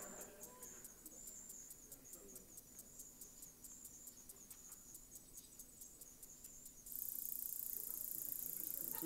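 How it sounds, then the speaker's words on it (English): A slender meadow katydid (Conocephalus fasciatus) calls in a field, a faint high-pitched buzzy stridulation made of rapid repeated ticks, steady under a soft background hiss that grows louder near the end. "listen to the slender meadow katydid."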